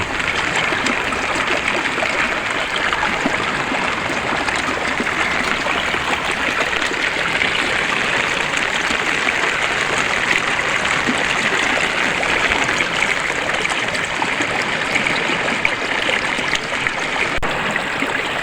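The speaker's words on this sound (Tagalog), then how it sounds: "dito na tayo sa isa sa ilog sapa sa aming lugar" Continuous rushing water of a flowing stream, steady and close, a dense broadband wash with small gurgles and no voices.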